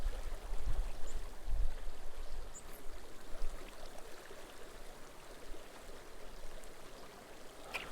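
A creek flows nearby with a steady, soft rushing and trickling wash, fairly quiet and constant, with a few faint knocks near the bank.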